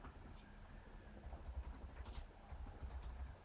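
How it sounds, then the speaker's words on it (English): Keys clatter on a computer keyboard in steady bursts of typing, close by and fairly quiet, during a tabletop role-playing game session with a low murmur in the background. "Why is she typing things?"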